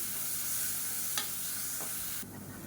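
Ginger garlic paste sautéing in a pan for biryani, a soft continuous hiss of frying with a single light utensil tap partway through, the sizzle dropping suddenly quieter near the end.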